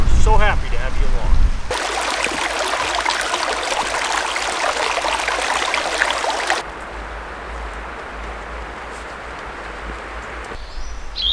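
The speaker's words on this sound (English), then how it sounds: "sound of the river" A river runs past a canyon campsite with a continuous rushing, trickling flow, loud and close at first, then softer and steadier as the scene shifts; a voice is briefly heard early on.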